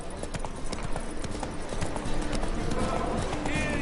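A horse gallops in The Witcher 3 on PS4, its hooves clip-clopping in a steady, loud, driving rhythm that runs the whole way through. Game sounds and voices are mixed in with the hoofbeats.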